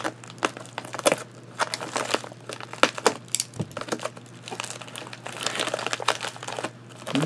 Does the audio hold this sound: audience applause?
no